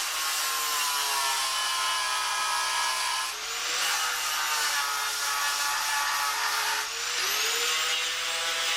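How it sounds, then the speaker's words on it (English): A wire wheel grinds steadily across a camper van's headlight-surround panel, scrubbing down plug welds, smoke residue and loose paint, a loud continuous abrasive whine with brief dips as the tool lifts off the metal. "Then put the wire wheel back on and went cleaning up all the little bits of weld"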